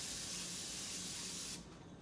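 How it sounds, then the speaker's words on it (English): Oil spray from a hand sprayer hissing steadily into a cooking pot for about a second and a half, then cutting off, close and clear with no talking. "you can just spray it directly in there"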